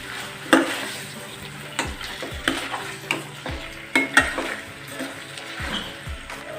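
Two chicken leg pieces frying in hot oil, a steady sizzle broken by repeated scraping stirs of a spoon against the pan, clear and close with no talk.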